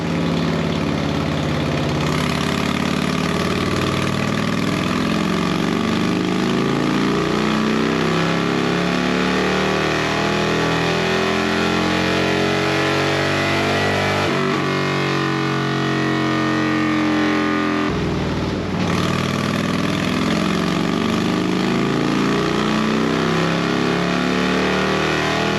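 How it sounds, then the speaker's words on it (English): A Harley-Davidson Road King fitted with an Ultima Dominator 2-into-1 exhaust idles loud and close as it warms up, its deep steady rumble swelling and dropping briefly in the middle before settling back to a continuous idle. "So now I'm going to warm the bike back up."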